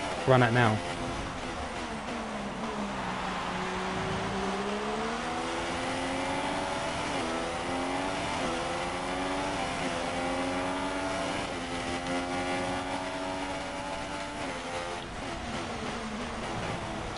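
An F1 race car engine in a Canadian Grand Prix racing video game howls through rising and falling revs, steady and prominent for the whole stretch while someone talks over it.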